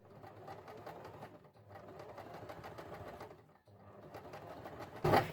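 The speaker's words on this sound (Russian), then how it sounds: "Прострачиваем вот так по краешку. Я использую специальную иголку для трикотажа." Sewing machine with a knit-fabric needle stitching along the edge of knit fabric for a baby jumpsuit: rapid steady needle chatter in bursts with a short pause, close and moderately loud, ending in a sharp clunk.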